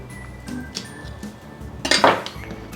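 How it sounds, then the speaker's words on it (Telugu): A knife cuts a corn cob into pieces on a kitchen surface. A few soft knocks lead to one louder, crisp crunching cut near the middle, then fainter taps. "అంటే నైఫ్తో మనం దీన్ని కట్ చేసుకోవాలి."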